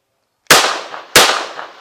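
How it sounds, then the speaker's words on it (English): Two sharp, loud pistol shots ring out outdoors at a shooting range, fired as a controlled pair about two-thirds of a second apart, each with a short decaying echo. "I jerked the trigger like somebody who doesn't know how to shoot on the first shot of that second controlled pair"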